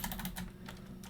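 Quick clatter of keys on a computer keyboard as a network command is entered into a Cisco router, a short run of close, soft clicks heard alone.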